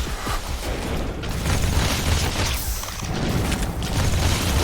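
Explosions from the video game The Riftbreaker keep booming and rumbling without pause, a dense, loud layer of blasts and crashing noise with no talking over it.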